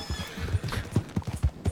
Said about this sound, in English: Let's go, horse.